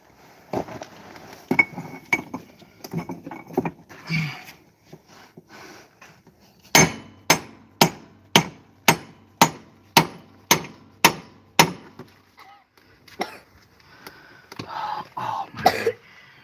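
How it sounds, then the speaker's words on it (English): Metal hammer blows on the bolts of a 2009 International truck's cab bushings: scattered clanks and clinks, then a steady run of about ten loud, evenly spaced ringing strikes, followed by more irregular knocks. "you know, hammering this thing."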